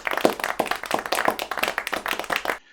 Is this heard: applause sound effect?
yes